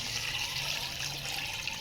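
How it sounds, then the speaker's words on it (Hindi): Hot water pours steadily into a pot of chicken trotters, a faint continuous splashing rush with no break. "ये देखें 2 किलो पानी मैंने गर्म करके रख लिया था। डाल देते हैं।"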